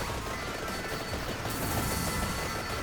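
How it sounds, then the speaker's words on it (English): Video game explosions in Vampire Survivors crackle and burst in rapid succession, a dense, continuous barrage of blasts at moderate level. "What's a few more explosions here?"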